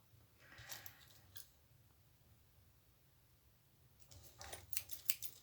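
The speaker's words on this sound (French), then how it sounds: "je les trouve vraiment trop serrés, les ciseaux" Tight, stiff scissors cutting in two short runs of quiet, crisp snipping strokes, the first early and a denser burst near the end, with soft hiss in between.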